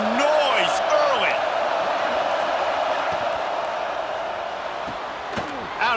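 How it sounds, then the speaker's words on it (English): Stadium crowd noise in EA Sports College Football 26, a loud, continuous roar of fans with scattered whistles and shouts, steady throughout. "This crowd bringing the energy and noise early."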